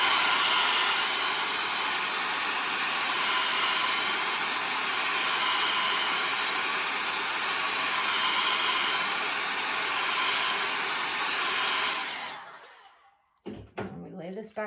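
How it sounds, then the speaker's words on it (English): A blow dryer runs loudly and steadily, drying a chalk transfer for about twelve seconds before switching off. A few faint handling knocks follow. "And then we're going to use the blow dryer."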